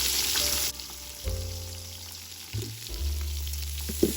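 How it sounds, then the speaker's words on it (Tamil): Onions fry with whole spices and green chillies for turkey biryani over a village stove, a loud hissing sizzle that drops back to a quieter crackle, with a low steady hum underneath. "ஆனியன்ஸ் வந்து நல்லா ஒரு கோல்டன் ப்ரௌன் அந்தளவுக்கு வந்து ஃப்ரை ஆகட்டும்."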